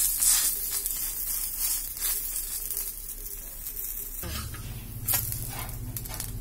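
A kaara poli flatbread cooks on a pan and gets flipped, with a low, steady sizzle and a few soft knocks. A deeper hum joins partway through.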